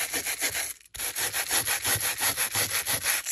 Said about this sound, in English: I'm just going to scuff the edge